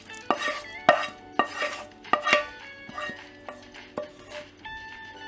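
Cooked dal being stirred together with sautéed onions for chow chow kootu, a spoon scraping and knocking against the pot in irregular close clinks and scrapes, with no talking.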